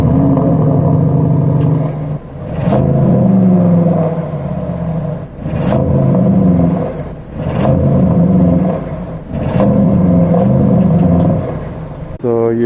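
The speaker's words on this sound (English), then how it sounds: "I will leave a small clip after this so that you can hear the exhaust sound." A 2021 Audi RS6 Avant's exhaust roars loud and close, swelling and falling through a series of revs with brief dips between pulls.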